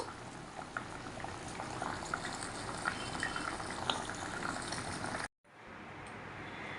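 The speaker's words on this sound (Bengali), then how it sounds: "অমলেটগুলো তো দিয়ে দিলাম, একটু ফুটে গেলে তারপরে নামিয়ে নেব" Omelettes simmer in a pan of boiling liquid, giving a steady bubbling and crackling sizzle close by, broken by one brief cut before the bubbling resumes.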